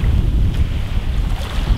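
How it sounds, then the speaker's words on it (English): Strong wind blows outdoors, roaring steadily and loudly across the microphone in low buffeting gusts with no pause. "it is a little bit windy today"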